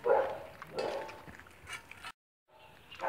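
Dogs at a breeding kennel give a few short barks and whimpers at moderate distance, broken by a brief moment of silence.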